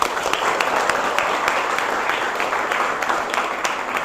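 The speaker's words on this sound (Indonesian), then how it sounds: "tepuk tangan untuk kita semua" Applause from a classroom of students at the end of a descriptive statistics lesson, steady dense clapping that goes on for about four seconds at a fairly loud level.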